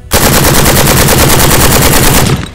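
A rifle firing polymer case ammunition on a range in a rapid, loud, evenly spaced automatic burst of about two seconds, close up and with no talk.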